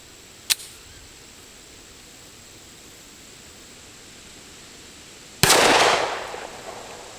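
Two sharp gunshots from a Heckler & Koch CC9 pistol fired at steel plates on an outdoor range, one small crack early on and a louder blast some seconds later that echoes and fades slowly.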